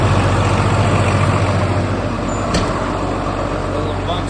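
A tractor engine warming up on a cold winter day, a loud, steady low idle rumble that runs throughout, with a brief sharp hiss partway through.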